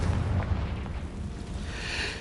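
A Confringo blasting curse from a Harry Potter video game explodes in a deep, rumbling boom that lingers for a couple of seconds, with a brighter crackling burst toward the end and no talking.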